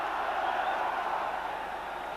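A capacity crowd of 48,000 at a football stadium before a Celtic v Rangers Old Firm match, a steady distant murmuring buzz of many voices with no distinct shouts.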